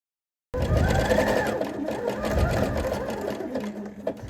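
An electric sewing machine stitching over elastic, starting abruptly and running steadily with a rapid mechanical whir and chatter, close and fairly loud.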